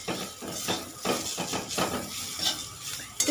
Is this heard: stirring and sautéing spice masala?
yes